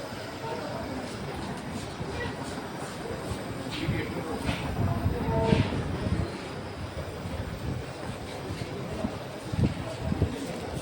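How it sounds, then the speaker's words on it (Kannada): A train pulls into a railway station with a low, steady rumble that swells and rolls on, while nearby voices talk over it. "ಟ್ರೈನ್ ಬರುತ್ತೆ ಮಮ್ಮ, ನಾವು ಟ್ರೈನಲ್ಲಿ ಹೋಗ್ತೀವಿ"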